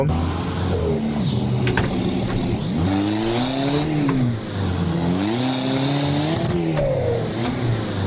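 Toyota Hilux Revo pickup engine in the Assetto Corsa racing game revs steadily, rising and falling in pitch through repeated throttle sweeps and gear changes, loud and continuous throughout with no talk.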